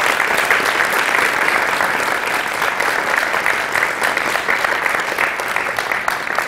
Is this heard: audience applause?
yes